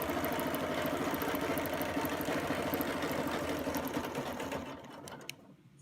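A sewing machine stitches a Baptist fan design into a quilt, running in a fast, steady mechanical whir close by before slowing and stopping near the end, with no talk.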